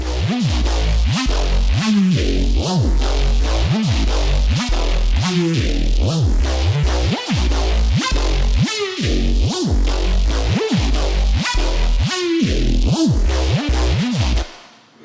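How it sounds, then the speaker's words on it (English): A thick, detuned Reese synth bass pulses in a steady repeating rhythm with pitch swoops, loud and continuous, with no talking. "this new bass sound that I created today"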